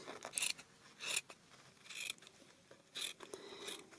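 Scissors snip through a piece of old Amazon cardboard packaging, cutting out a circle in several separate bursts of crisp crunching cuts with short pauses between, close and moderately loud.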